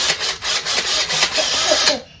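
A power drill whirs close and loud in short pulsing bursts, its pitch rising and falling with the load, then it stops abruptly.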